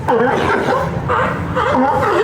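Sea lions barking at Pier 39 in San Francisco, a steady run of loud, close, overlapping barks and honking calls from several animals across the whole stretch.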